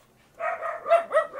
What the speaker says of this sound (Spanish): Ahí están los perritos ladrando.